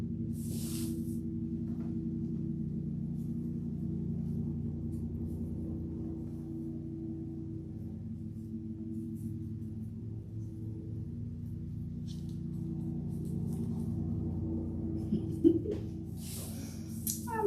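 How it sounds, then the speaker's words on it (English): A lawnmower fitted with a grass pickup attachment drones steadily in a backyard parking area, a low continuous engine hum heard from a distance throughout, faint and unbroken. "my grandson just added something to the lawnmower to pick up the grass"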